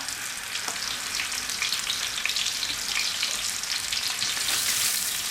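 Bean paste stir-fried in a wok with star anise and bay leaves, a steady dense sizzle and crackle running throughout with faint scraping stirs, close and fairly loud.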